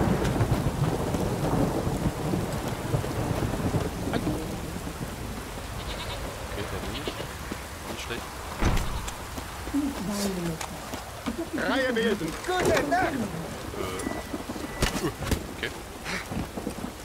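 A thunderstorm with heavy rain rolls on in The Witcher 3. A continuous rain roar carries deep thunder rumbles and cracks, while muffled voices and other game noises come and go.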